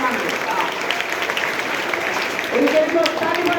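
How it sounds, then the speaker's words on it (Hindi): Audience applause at a Hindi/Angika poetry event honoring a daughter, a steady broad wash of clapping throughout, fairly loud, with a voice faintly audible beneath. "उनके लिए जोरदार ताली,"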